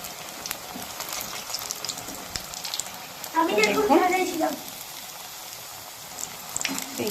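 Soft, continuous crackle of vegetarian mock fish pieces frying in oil until reddish, with a brief louder sputter midway, and no voices.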